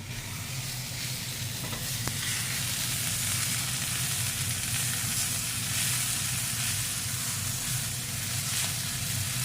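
Shrimp fry in a hot pan with a loud, steady, close-up sizzle that holds evenly throughout, with no voices.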